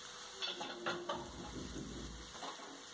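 Capsicum frying on a tawa for tawa paneer after being covered on medium flame, a soft steady sizzle with scattered stirring scrapes and light utensil clinks, close and fairly quiet, no talking.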